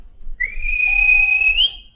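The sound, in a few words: railway guard's whistle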